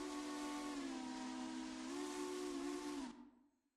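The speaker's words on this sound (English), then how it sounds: "So I picked a whistle that sounded kind of good." Steam locomotive whistle in the railroad game Railroader, a loud sustained chord blown steadily for about three seconds before cutting off, with a short fading tail and no talk.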